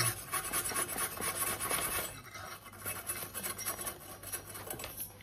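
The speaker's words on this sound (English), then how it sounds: "Give them a nice little scrub down." Components of a Vaillant EcoTec Plus boiler scrubbed clean by hand, a close, rasping rub in quick back-and-forth strokes, busier at first and then lighter.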